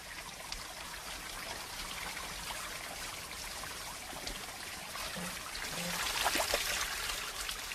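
Water runs down a steep mountain stream in Kenya, giving a continuous close trickle and rush with small splashy drips and a slight swell near the end.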